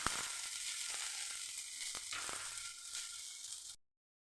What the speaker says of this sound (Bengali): পেঁয়াজটা দিয়ে দিলাম, রসুন দিয়ে দিলাম। আমি ভালো করে সামান্য একটু ভেজে নেবো।